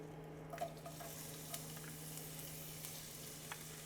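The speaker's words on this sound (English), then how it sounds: "Fry some onions" Onions fry in a pan with a constant soft sizzle under a steady low hum. Occasional faint clicks and stirring scrapes rise briefly above it.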